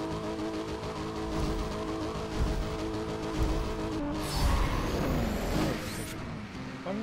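A Nissan 350Z racing in the Need for Speed World video game, its engine droning and revving steadily with a surge of rushing road noise midway, loud and continuous with no talk.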